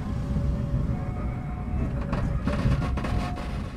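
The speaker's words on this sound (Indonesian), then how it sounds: "Sekarang ini kereta api Brawijaya sudah berangkat lagi dari stasiun Semarang Tawang" Low rumbling of the Brawijaya passenger train rolling out of Semarang Tawang station, heard from inside with a steady low drone and a few rattling clacks toward the end.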